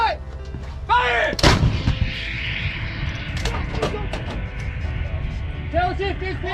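Howitzer artillery gun firing during a NATO field test, one massive close blast with a long rumbling tail, with crew voices calling out before and after it.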